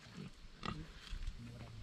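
Hardy backyard pigs in a sty on a small rural farm give short, quiet grunts and snorts at fairly close range, with faint voices nearby.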